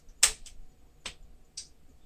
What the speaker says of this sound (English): Really love the typing action on this too.